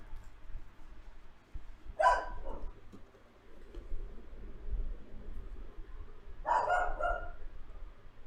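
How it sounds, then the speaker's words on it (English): A dog barks twice in the distance, a short pair of yaps separated by several seconds of quiet room hum. "can y'all hear the barking?"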